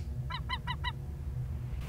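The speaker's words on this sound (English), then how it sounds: "I wonder if this is the same seagull that keeps fucking with him" Seagull calling in a film scene, four short honking cries in quick succession over a steady low rumble of background noise, then the rumble continues alone.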